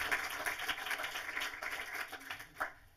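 Applause from an audience welcoming guest Ula Stöckl at a film talk, a dense, steady patter of many hands filling the room, moderately loud throughout with a slight swell near the end.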